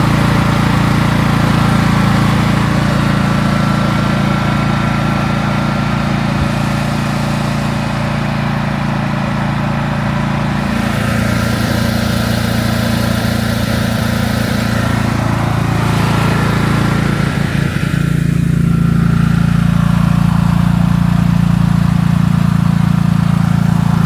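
A Champion 8750 tri-fuel generator running inside a shed enclosure, a loud, steady engine hum and drone that holds without pause throughout.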